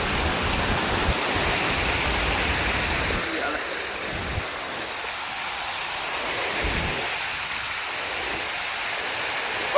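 Stream water flows around a fishing spot, a broad steady rushing wash close by that dips and swells slightly, with some low murmuring voices faintly present beneath it.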